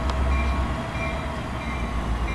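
A Lehigh Gorge Scenic Railway excursion train passes along the Lehigh River through Lehigh Gorge State Park, a loud, steady low rumble of rolling cars with faint rail squeal and no voices.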